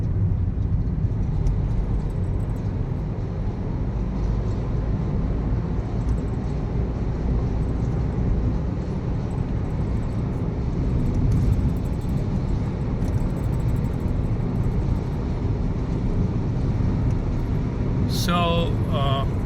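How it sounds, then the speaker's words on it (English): A Tata Tiago car drives through a road tunnel on a highway road trip in India, giving a steady, enclosed low rumble of engine and road noise with a brief brighter whoosh near the end. "We are going inside a tunnel now."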